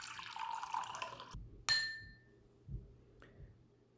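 A water glass partly filled with water is struck, giving a few faint clinks, with one clear ringing tap that decays quickly, followed by softer knocks in a quiet room.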